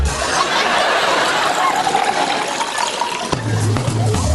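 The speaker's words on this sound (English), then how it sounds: "Pour it down the sink" Tea is poured down a kitchen sink, a steady, loud splashing rush of liquid that runs for a few seconds before the tone shifts near the end.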